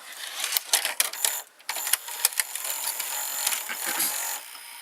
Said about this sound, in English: it's the capstan motor that is responsible for inserting and ejecting the cassette